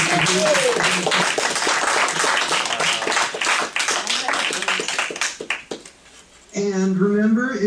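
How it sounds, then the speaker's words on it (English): An audience at a Thanksgiving Day comedy show gives a comic a big round of applause, steady crowd clapping that thins out toward the end before a voice comes in over the room. "So let's give Mitzi a big round of applause."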